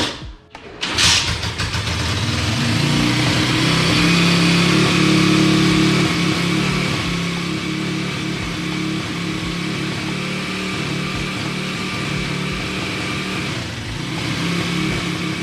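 Apollo RFZ 140cc pit bike engine fires up after a brief crank, then revs and settles into a loud, steady, buzzing run with slight rises and falls in pitch, close by and alone without talk.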